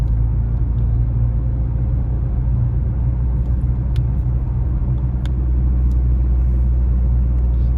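A car rolls along a snowy, icy mountain highway near Lake Arrowhead, heading downhill on Highway 18, with a steady, close low road rumble and engine hum throughout and no talk.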